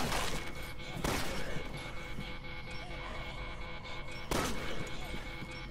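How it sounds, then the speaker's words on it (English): Gunshots ring out in the Resident Evil 6 video game: a few sharp, loud cracks spaced seconds apart over a busy background of game ambience. "I'm shooting you in your half a head."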